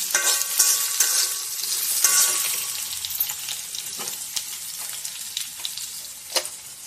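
Potatoes and jackfruit seeds frying lightly in oil in a pan, giving a continuous close sizzle with bursts of stirring and scraping, loudest early on and then settling into a steadier hiss.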